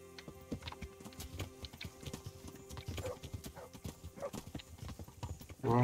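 Horses' hooves clip-clop on a road in Kingdom Come: Deliverance, a steady, fairly quiet trotting rhythm of many distinct knocks that runs throughout, with a louder sound entering right at the end.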